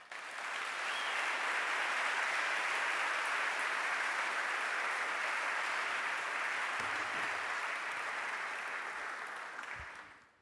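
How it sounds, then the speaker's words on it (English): An audience at a talk on Palestine breaks into loud, sustained applause to welcome a speaker, a dense even clapping that holds for about ten seconds before fading out. "Please help me in welcoming him and giving him a big round of applause."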